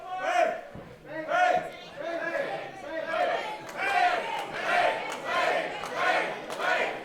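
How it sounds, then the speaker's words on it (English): A professional wrestling crowd chants in a steady rhythmic cadence for the champion Pain, loud, repeated voices rising and falling in unison throughout. "Crowd chanting for Pain"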